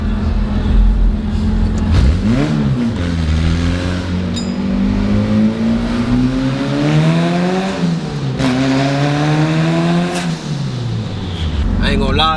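A turbocharged Honda Civic accelerates hard, its engine note repeatedly climbing and dropping through loud, close revs that fill the whole stretch.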